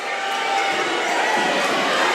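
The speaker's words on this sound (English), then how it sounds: "And the crowd is picking up." A high school basketball crowd roars steadily through a game between Colts Neck and Atlantic City, a dense, continuous wash of cheering and shouting that swells slightly, with a commentator talking over it.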